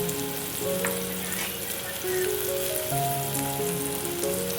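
Tomato fries in a pan with a steady, bright sizzle and crackle, close and continuous, while sustained musical tones play softly in the background.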